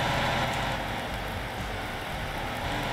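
Steady rain in Farming Simulator 19, a continuous broadband hiss of falling rain running evenly throughout with no voices.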